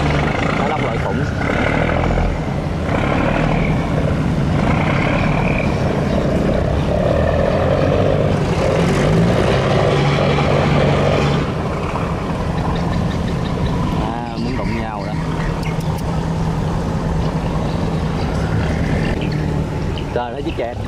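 Steady droning motor of a Vietnamese snail-fishing boat over four metres long, running continuously close by with boat and water noise, while people talk intermittently over it.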